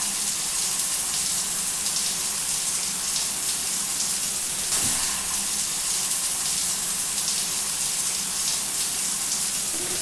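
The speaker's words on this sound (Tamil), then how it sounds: "பண்டி இன்னும் கொஞ்சம் நிறைய தண்ணி ஊத்து பண்டி" Water poured over hair during a shampoo at a salon, a continuous close splashing rush that holds steady and loud throughout, with no one speaking.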